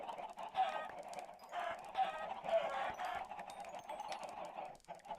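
Many chickens cluck continuously on a crowded chicken farm in Minecraft, a dense, overlapping flock sound at moderate loudness.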